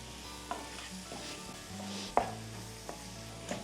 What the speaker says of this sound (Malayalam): സവോള റെഡിഷ് ബ്രൗൺ ആകുന്ന സമയം വരെ നന്നായിട്ട് വഴിച്ചെടുക്കുക